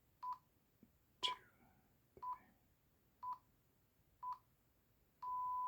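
Time-signal beeps used to set the second-setting bezel of a Longines Weems pilot watch: five short evenly spaced tones about a second apart, then a longer sustained tone, faint against quiet background hiss.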